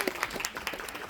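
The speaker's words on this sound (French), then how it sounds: "On a applaudi le micro." An audience at a cosplay contest gives a short burst of scattered applause, individual claps audible and fairly faint, as if the crowd is at some distance.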